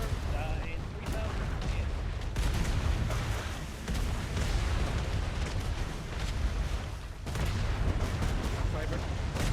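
Mortar and cannon fire in a naval video game, aimed at a ship's helm, rolls out as dense booming blasts over constant battle rumble, with a voice speaking over the chaos.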